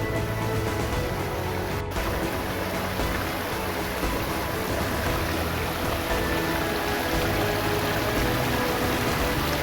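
A monsoon-fed mountain stream in forest near Dhinodhar rushes and gurgles in a dense, continuous wash of water noise, loud and unbroken, with no talking.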